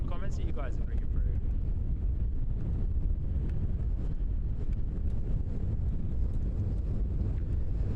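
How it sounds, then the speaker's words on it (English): Wind buffets an outdoor microphone at a plane-spotting spot by Christchurch airport, a continuous low rumble and roar that stays loud throughout, with a voice speaking briefly near the start. "Wind is picking up again a little bit here"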